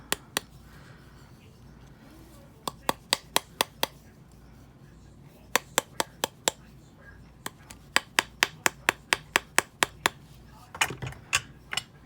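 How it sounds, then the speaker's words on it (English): A small hammer taps a wire-wrapped ring on a ring mandrel, making sharp metallic ticks in irregular bursts of rapid strikes separated by short pauses, close and fairly crisp against a quiet background. "Try not to hammer on the flat spot of your ring mandrel if you have a flat ring mandrel"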